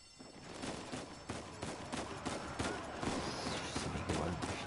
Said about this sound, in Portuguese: Os caras estão metendo bala.